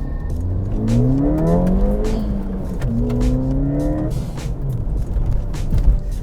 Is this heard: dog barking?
no